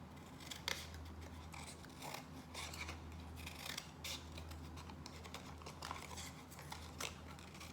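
Scissors snipping paper into a zigzag line, a quiet, close series of sharp irregular cuts with short pauses between snips, alone with no talking.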